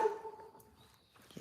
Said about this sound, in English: baby dogs